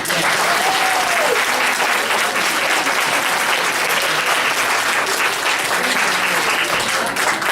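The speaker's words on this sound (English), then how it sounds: "I would like to give this group a nice round of applause." Parents in the audience at a school uniform meeting give a panel group a sustained round of applause, steady dense clapping with a few voices underneath.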